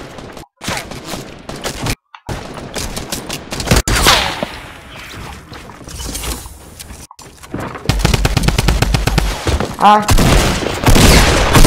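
Bursts of gunfire in Fortnite, loud and repeated, with rapid volleys building into sustained firing near the end, while a player briefly speaks.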